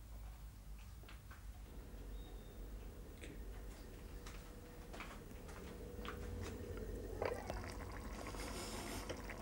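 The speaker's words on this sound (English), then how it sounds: "I've got one bubbling away over there on the stove" A pot of chili con carne simmers on a stove, a continuous faint bubbling with soft irregular pops and ticks throughout, steady and close with no voices.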